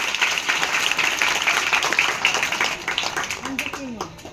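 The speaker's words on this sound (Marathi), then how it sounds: "जोरदार टाळ्या।" An audience at a Swami Vivekananda and Rajmata Jijau birth anniversary event claps loudly and continuously, the dense applause thinning toward the end as a voice starts to speak.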